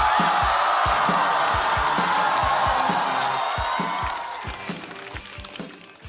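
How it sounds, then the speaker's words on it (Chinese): A studio audience at a stand-up comedy competition show applauds and cheers as a comedian is introduced; a dense, loud wash of clapping and cheering rides over a thumping rhythmic music beat, then eases down toward the end. "掌声有请徐指导"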